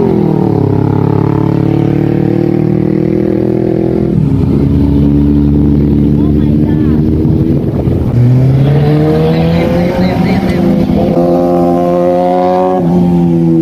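BMW R1M big bike motorcycle engine running loud and close, a droning roar that climbs and shifts pitch as it revs and changes gear, with other traffic engines around, no speech.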